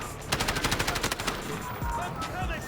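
Automatic rifle fire in the shooter game Delta Force: a loud, fast burst of about a dozen evenly spaced shots, then a couple of duller thumps and some game sounds.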